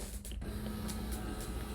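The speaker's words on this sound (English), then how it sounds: "incoming a noise from my printer" A home printer runs off a periodic table, its mechanism whirring and buzzing steadily with a brief pause near the start, then small periodic clicks and shuffles as the page feeds through.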